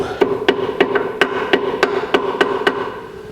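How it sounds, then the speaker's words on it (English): Sharp metallic hammer strikes bending a cotter pin over a nut on a 1964 C10 pickup's steering linkage, about eleven in a steady rhythm, close and loud, with a ringing tone on each blow. "and take a hammer and get it all the way down"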